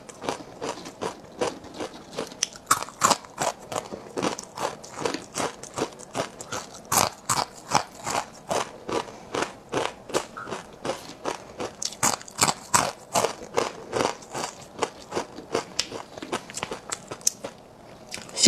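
A crunchy, spicy snack being bitten and chewed close up, a long run of sharp, crackly crunches repeating in a steady rhythm with no talking.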